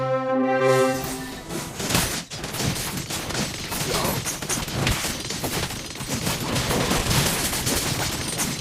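An energy gun fires in the Mobile Legends video game, a rapid barrage of sharp blasts and thumps over game music and effects, steady and loud throughout with a short tonal chime at the start.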